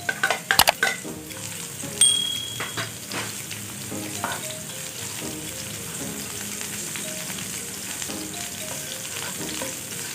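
Onion and garlic fry together in a pan, a steady bright sizzle broken by scrapes and stirs of a spatula, with clinks and knocks against the pan near the start. There is no talking.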